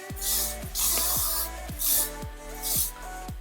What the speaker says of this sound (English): And grabbing some hairspray.